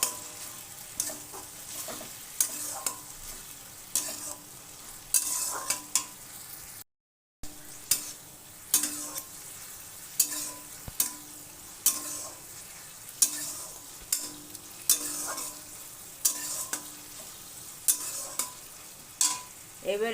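A paste of ginger, green chili and garlic is stirred in a hot pan, with repeated rhythmic scrapes and clatters over a soft sizzle and one short cut to silence partway through.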